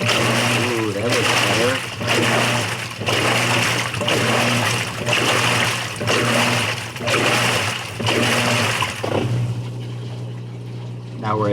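Water draining from a Whirlpool top-load washer in its drain sequence, a loud steady rushing gurgle with rhythmic pulsing surges, easing off toward the end.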